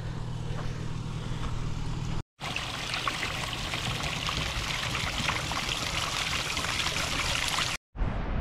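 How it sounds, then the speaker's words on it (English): Water pours steadily from an outback bore into containers in Arnhem Land, a continuous rushing splash close to the microphone, broken by two brief silences. "I'll tip this stuff out and fill the containers up with some of this nice,"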